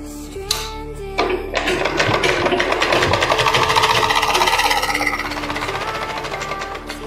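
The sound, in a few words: sewing machine stitching blouse shoulder seam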